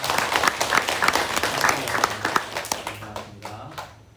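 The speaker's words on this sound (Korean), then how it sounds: "우리 박수로 환영하겠습니다." A church congregation applauds during a Sunday worship service, a dense steady patter of many hands that fades toward the end, with faint voices underneath.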